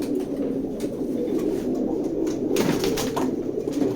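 Grizzle pigeons at a loft coo steadily throughout, a continuous low murmuring of several birds close by, with no voices.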